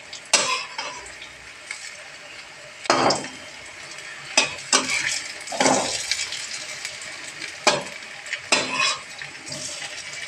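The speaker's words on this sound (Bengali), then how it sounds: "এমনি করে ভেজে নিতে হবে।" Coriander leaf fritters fry in a pan, a steady background sizzle broken by repeated clinks and scrapes of a utensil stirring and turning them.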